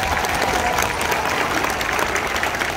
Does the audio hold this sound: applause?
yes